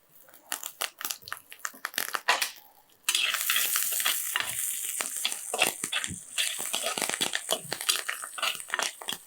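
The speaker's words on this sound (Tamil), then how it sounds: "இதை வந்து ஒரு ரெண்டுலேருந்து மூணு நிமிஷம் லைட்டாக அப்படியே வதக்கி எடுத்துக்கோங்க" Curry leaves and onion sautéing lightly in a pan for a tamarind brinjal curry burst into a loud, steady sizzle partway through, after scattered scraping and stirring clicks, with no speech.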